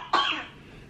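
A baby with a cough lets out a single short cough, close and fairly soft, followed by quiet.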